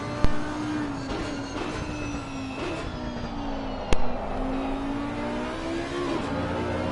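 Race car engine in the Assetto Corsa video game at the Catalunya circuit, a steady loud drone with gear-change dips and rising pitch as it accelerates, with two sharp clicks along the way.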